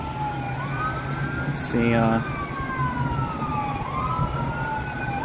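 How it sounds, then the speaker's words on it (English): Ambulance sirens wail and sweep past in the distance during Tropical Storm Helene in Stockbridge, Georgia, rising and falling over rain and traffic rumble, with a voice speaking briefly and a short horn blast. "oh, I hear the ambulances and sirens going on"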